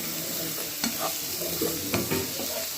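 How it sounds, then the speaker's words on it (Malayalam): Ginger, garlic and curry leaves sizzle in hot oil in a frying pan for fish roe curry, a steady bright hiss with a few soft stirring scrapes, close and alone. "നമുക്ക് ഇതിലേക്ക് ഇഞ്ചി വെളുത്തുള്ളി ഇട്ടെടുക്കാം ഇതിനൊക്കെ കുറച്ച് കറിവേപ്പില ഇട്ട് കൊടുക്കുന്നുണ്ട്"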